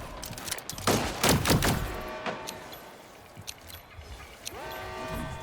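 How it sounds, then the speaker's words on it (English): Firecracker power weapon going off in the video game Splitgate 2, a burst of sharp crackling blasts followed by quieter pops and a rising electronic whine. "Firecracker in the ground. Fuse is lit."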